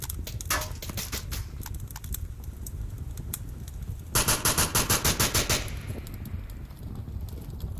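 Rapid automatic gunfire in the VR shooter Onward during a competitive match, several quick bursts with one sustained loud volley mid-way, over continuous low background rumble.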